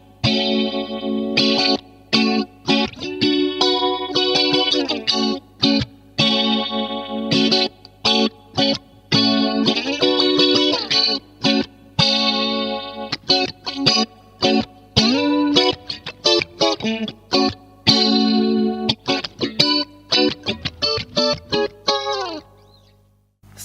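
Digitech Nautila chorus pedal on electric guitar, its modulation speed ramping up and slowing down over strummed chords; a continuous, loud, swirling warble with no talking.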